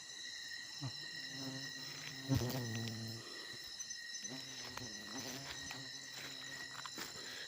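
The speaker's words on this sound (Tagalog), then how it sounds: "Daming bubuyog." Buzzing insects drone in a steady high hum, with lower buzzes swelling and fading as they pass close by. No one speaks.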